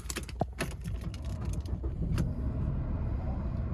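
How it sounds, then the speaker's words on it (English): A 2020 MG3 Auto's engine starts with clicks and mechanical clunks from inside the car, then settles into a low, steady idle rumble, close by with no talking. "Jump in and start the car up for you."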